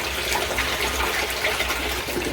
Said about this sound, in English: And so the water is starting to flow